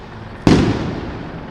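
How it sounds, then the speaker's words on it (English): A flash-bang grenade goes off at an anti-Trump women's march street protest in Washington: one sudden, loud blast that is close by, followed by a rumbling, slowly fading roar. "I think these little flash bombs, I think they're just intended to disorient and frighten people"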